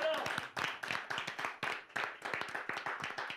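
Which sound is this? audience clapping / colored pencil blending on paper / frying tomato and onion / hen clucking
audience clapping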